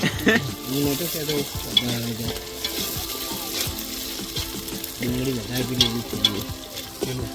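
Maggi noodles frying and being stirred in a pan outdoors in a farm field, giving a continuous close sizzle with scraping stirring strokes and occasional clinks, and no talking.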